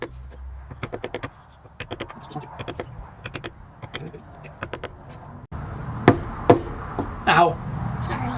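A small metal punch is tapped into a wooden fish-shaped pencil holder to start a hole for a drill bit, making a run of sharp, close knocks in quick bursts, then a few louder isolated strikes with a brief voice.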